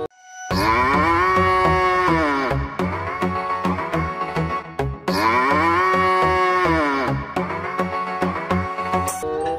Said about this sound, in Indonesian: Ini namanya sapi.